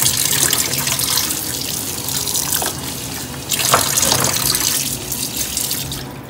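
Tap water running steadily into a sink or basin to soak waterproof baby bibs, a continuous close splashing stream with shifting intensity and no talk.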